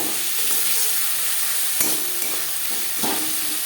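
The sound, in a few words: stirring ginger and green chili paste with onion and tomato in pan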